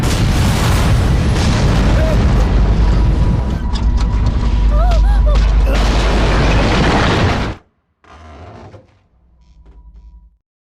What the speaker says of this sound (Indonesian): anak buah Tirupati menekan remote bom dan bom pun meledak membuat mobil Jogindra terguling